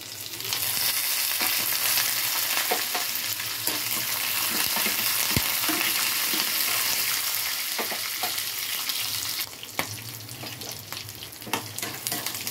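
Green chillies and curry leaves crackle and sizzle in hot oil beside already-fried peanuts, a loud steady frying hiss with occasional stirring scrapes and pops, no talking.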